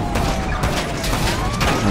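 Gunfire in the GTA V video game, a rapid rattle of shots with bursts and mechanical clatter over a busy game mix, loud and close throughout the short stretch.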